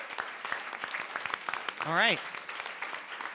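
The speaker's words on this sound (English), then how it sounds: "Another round of applause." An audience claps at a Minneapolis mayoral candidates forum at the Becketwood Cooperative, a close, steady stream of applause throughout, with someone briefly speaking over it partway through.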